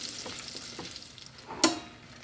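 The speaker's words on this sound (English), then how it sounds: "as soon as that is melted, we will start searing our short ribs" Beef short ribs sear in melted garlic butter with a soft, steady sizzle and light stirring. A sharp clatter near the end is followed by a louder burst of frying as the meat goes in.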